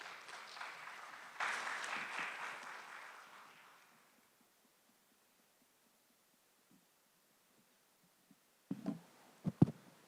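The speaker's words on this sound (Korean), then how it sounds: "박수로 환영해 주셔서 감사하겠습니다" An audience at a toilet and sanitation conference in Korea applauds to welcome a speaker, the clapping swelling briefly then fading to silence before a few soft knocks and handling noises near the end.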